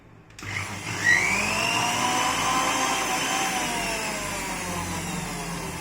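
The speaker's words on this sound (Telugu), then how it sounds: "2 స్పూన్ షేక్ మేడ్ వేసి కొద్దిగా గ్రైండ్ చేస్తే ఇది పాలు లాగా అయిపోతుంది" An electric blender grinds Herbalife shake mix into milk, starting after a brief silence with a sharp spin-up, then holding a steady, loud, whirring motor drone with no voices.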